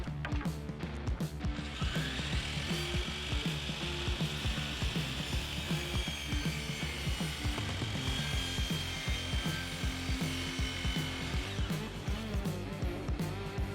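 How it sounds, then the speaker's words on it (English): A miter saw cuts a 45-degree bevel through wooden chair rail moulding, a steady loud mechanical whine with repeated rattling, ratchet-like clicks running throughout, close and alone. "I can take it to my miter saw and make a 45-degree bevel that'll fit into the corner"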